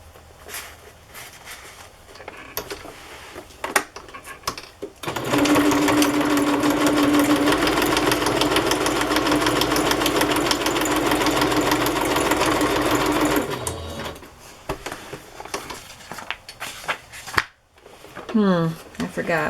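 A sewing machine with a bobbin problem runs in one loud, steady stitching burst of about eight seconds, a dense mechanical whir. Shorter clicks and handling noises come before and after, and a person talks nearby.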